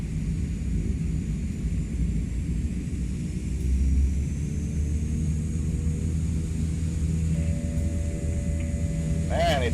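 Twin turboprop engines of a CL-415 water bomber drone steadily in Microsoft Flight Simulator 2024, a loud, continuous low roar with a faint rising whine as the aircraft gathers speed.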